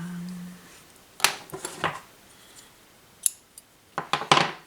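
Scissors snipping double jersey knit fabric for a loop, with a few short bursts of close cuts in two clusters separated by a pause, alone with no talk.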